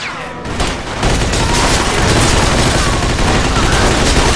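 Dense, loud gunfire from gangsters in Mafia 2, a slaughterhouse shootout with overlapping shots and rattling automatic fire blending into a continuous roar after a brief opening.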